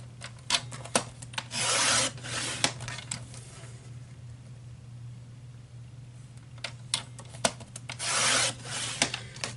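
Paper trimmer slicing through cardstock in two short, rasping cut strokes, each followed by soft clicks and handling sounds, close and moderately quiet.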